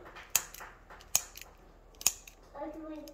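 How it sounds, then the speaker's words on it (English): A blade slices down the middle of a firm kefir sourdough bread dough, giving three sharp snipping cuts spaced evenly apart, close and clear, followed by a brief soft rustle at the end. "Here's the dough. I'm going to cut it down the middle"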